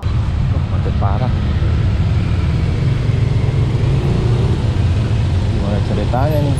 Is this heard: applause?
no